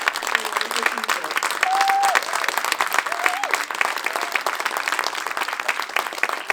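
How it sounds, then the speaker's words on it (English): An audience at a film festival Q&A gives a sustained round of applause, loud and dense from start to finish, with a couple of brief voices or whoops rising above the clapping. "we need a big round of applause for this wonderful"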